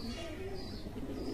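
A pigeon coos in a low, soft, continuous murmur with steady background noise, close by.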